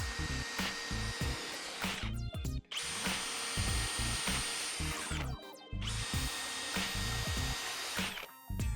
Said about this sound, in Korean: 다음으로 해머드릴 드라이버 FPD3를 준비했고요